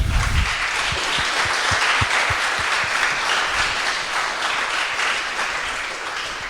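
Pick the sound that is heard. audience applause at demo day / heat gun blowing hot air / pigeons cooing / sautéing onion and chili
audience applause at demo day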